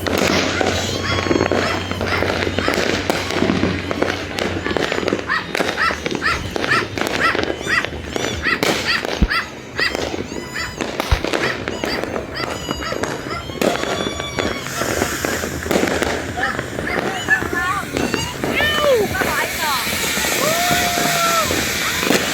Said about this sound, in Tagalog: Santa Maria doon, maraming fireworks doon.